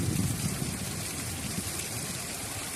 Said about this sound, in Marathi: पाऊस खूप जोरजोरात येऊ राहिलाय.